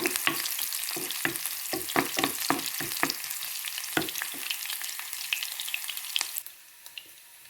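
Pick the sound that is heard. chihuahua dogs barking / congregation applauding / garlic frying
garlic frying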